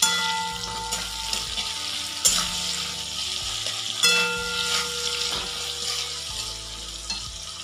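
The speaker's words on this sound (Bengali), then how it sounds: "এবার বেশ কষে যাচ্ছে" Chopped tomatoes with green chillies sizzle and fry in a pan, a steady close crackle broken by repeated scraping and stirring knocks from a utensil, with no talk over it.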